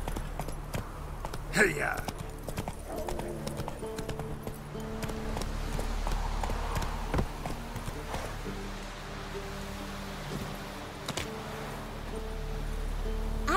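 Hooves of Roach, Geralt's horse in The Witcher 3, clop steadily across the ground in a soft galloping rhythm, mid-distance, while a voice calls out briefly near the start.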